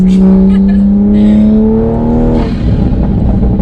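Tuned Toyota Supra A90 on its most aggressive map, heard from inside: a steady engine drone rises with the revs, then breaks into rapid, loud crackling exhaust pops, with voices in the cabin.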